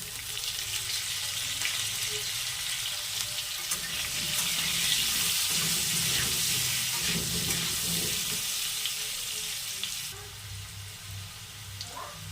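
Potato pieces dusted with turmeric powder fry in hot oil in a pan. The sizzle is loud and steady and crackles near the microphone, with occasional stirring scrapes. It eases slightly toward the end.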